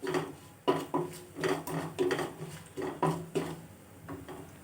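Dry ingredients and chillies for palak keerai thokku being roasted in a pan, a steady run of scraping and clinking as a spatula turns them, repeated in short strokes at close range with no talk.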